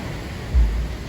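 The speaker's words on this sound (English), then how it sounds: "There's some little waves rolling in." Small waves roll in at the County Line surf break beside Neptune's Net on the Pacific coast, a low steady wash of surf with one fuller swell cresting midway, heard alone under faint wind.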